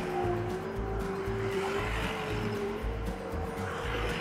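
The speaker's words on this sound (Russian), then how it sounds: "Мотор, конечно, сейчас на пределе работает. Рычит, как не знаю кто." A Kugoo M2 electric scooter motor whines steadily under heavy load climbing uphill, a sustained strained tone over rumbling road and wind noise, close and continuous.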